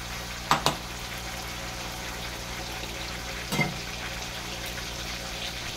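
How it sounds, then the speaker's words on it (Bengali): Spice paste of tomato, ginger and chilli hitting a pan for a cabbage ghonto, a soft steady sizzle with a couple of sharp knocks early on and another clatter later, close and without talk. "মশলা ভাজাটাকে দিয়ে দেবো।"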